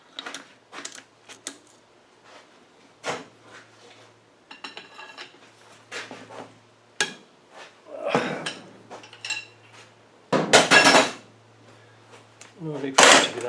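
Metal bolts removed from an R380 gearbox are picked up and set down on a workbench, producing sharp clinks and clatters in irregular bursts, some loud and close, with gaps of near-silence between them.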